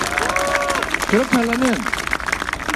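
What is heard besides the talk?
audience applause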